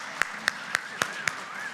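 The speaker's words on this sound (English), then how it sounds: "Yeah, let's clap for that." A handful of sharp, evenly spaced claps, five in a steady rhythm, ring out over a faint steady tone at the opening of the City of Glendale Small Business Summit.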